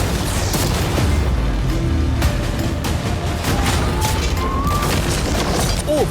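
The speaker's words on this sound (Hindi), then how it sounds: "अब हम तुम्हारी नई यॉट पर कैनन्स को शूट करने वाले हैं" Cannons fire at a yacht in a video game, with repeated heavy booms and crashing impacts over a dense roar of debris and splintering, loud and continuous, with no talk.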